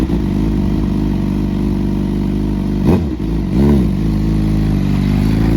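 A tuned 2020 Suzuki GSX-R 750 sportbike engine runs loud and close, a steady raspy idle with two quick throttle blips that rise and fall around the middle.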